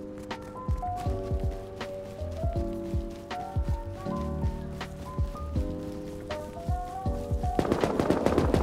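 AK rifle fired in a video game, rapid steady bursts of close, loud automatic gunfire with bright ringing echoes over a background of music-like tones, intensifying near the end.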